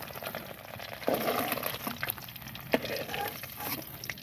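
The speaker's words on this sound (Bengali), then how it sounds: "তুলে নিয়ে আলুগুলো এই তেলে ভেজে নেব।" Potatoes frying in a pan of oil just used for duck eggs: a soft, steady sizzle with a few brighter crackles and clinks, faint and close, with no talking.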